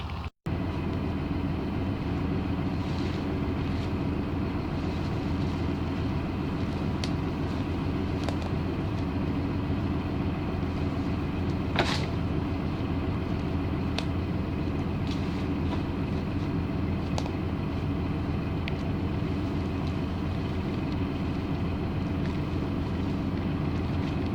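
A tractor engine runs continuously while skidding logs in a woodland, a steady loud mechanical rumble with occasional clanks and clicks over about twenty-four seconds, no speech.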